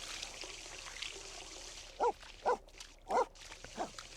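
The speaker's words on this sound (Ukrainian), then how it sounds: "Ще й гавкає, а то спить там." A dog barking in The Sims 4 video game, four short separate barks spaced about half a second apart over a soft watery splashing bed, with no talk.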